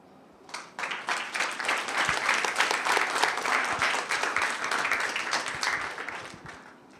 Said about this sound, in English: Round of applause for my man.